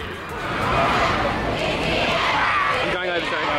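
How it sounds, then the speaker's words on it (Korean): A large crowd cheers and shouts in Piccadilly Circus, London, a dense roar of voices that swells and holds throughout. "시민들 사이 갑자기 환호성이 터져나오는데"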